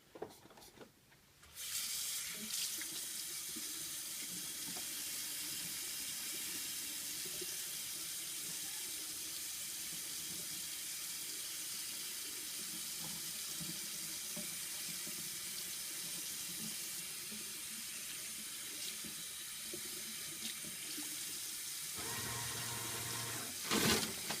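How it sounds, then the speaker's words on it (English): Running tap water pours steadily into a sink during handwashing before a catheter insertion, a continuous close splashing hiss lasting about twenty seconds before the flow is shut off. "first I'm going to wash my hands"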